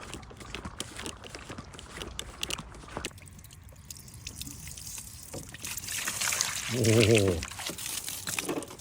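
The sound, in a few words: water flowing out from the pump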